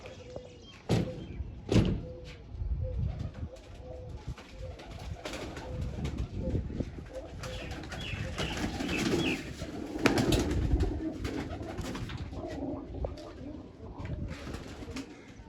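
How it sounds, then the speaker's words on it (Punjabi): Pigeons cooing nearby in a loft, soft repeated low calls throughout, with a few sharp knocks and faint background voices. "ਆ ਕਬੂਤਰੀ ਹੈ ਜੀ"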